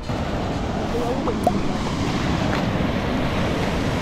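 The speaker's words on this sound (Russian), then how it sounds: "Волны такие." A steady roar of crashing surf mixed with wind buffeting the microphone, continuous and fairly loud throughout.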